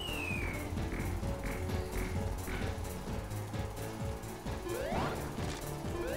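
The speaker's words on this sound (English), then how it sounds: "You could even see the glass breaking." Glass shatters in Sonic 3D Blast among dense game effects and music, with repeated sharp crashing and clinking hits and a rising sweep near the end.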